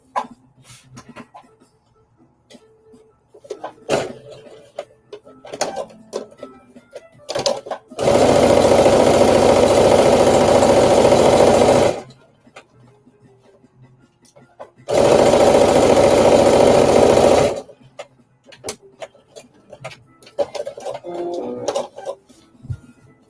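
Sewing machine stitching the pocket of a jumpsuit in two loud, steady runs of rapid mechanical whirring, separated by quieter handling noises and pauses.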